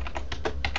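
Keys clatter on a computer keyboard as an apt-get install command is typed on Ubuntu during a LAMP setup: about six quick, close clusters of clicks in under a second.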